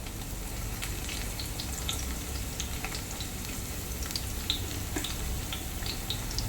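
Curry leaves and crushed unpeeled garlic cloves fry in hot oil for a Kerala-style karimeen pearl spot fish curry, giving a steady, quiet sizzle with scattered small crackles and pops throughout.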